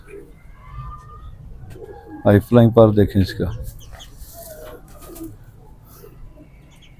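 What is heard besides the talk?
pigeon cooing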